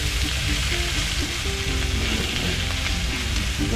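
Shredded turnip, carrot and cabbage stir-fried in a hot wok for Nyonya jiu hu char with dried cuttlefish, giving a loud, continuous close sizzle with light stirring scrapes and no talking.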